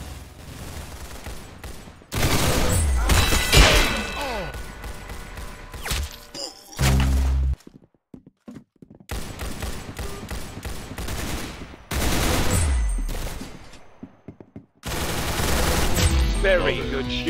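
Rapid gunfire in the Roblox game Arsenal, with loud bursts of automatic shooting separated by short quieter gaps and a few thuds, all game sound with no talking.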